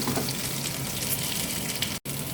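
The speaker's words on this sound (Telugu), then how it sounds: "వేగాక బెండకాయ ముక్కలు వేసుకోవాలి" Okra pieces fry in a cast iron kadai with green chilli and curry leaves, a steady, close sizzle running throughout with one brief dropout near the end.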